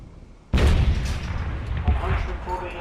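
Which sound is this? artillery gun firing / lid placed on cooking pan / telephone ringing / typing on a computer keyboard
artillery gun firing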